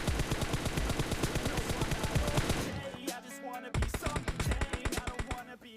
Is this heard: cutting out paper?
no